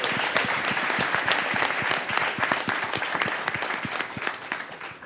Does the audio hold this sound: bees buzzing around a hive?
no